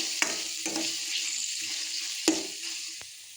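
Oil in a pan on the stove sizzles loudly and steadily for okra curry, with a few sharp scrapes and taps of a stirring spoon against the pan, close up and alone.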